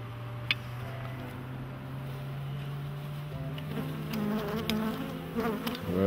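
Honey bees buzz steadily around an open hive during a swarm check, a dense continuous drone close to the listener with scattered louder passes of individual bees near the end.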